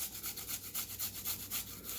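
Asian pear rubbed against a grater for a bulgogi marinade, a quiet, rhythmic scraping repeated about eight times in quick even strokes, close and alone.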